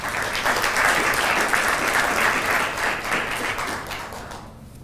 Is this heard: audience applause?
yes